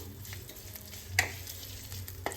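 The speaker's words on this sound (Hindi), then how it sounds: "मिर्च डाल दें और इन्हें 10 से 20 सेकंड के लिए सोटे कर लें" Cumin, mustard seeds, grated ginger and chilli sautéing in hot oil, a soft steady sizzle close by with a couple of sharp stirring clinks.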